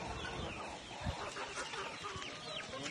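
Chickens cluck steadily on a farm in Ormoc in the Philippines, a busy overlapping flock heard close by with no talking.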